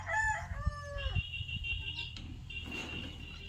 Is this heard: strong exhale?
no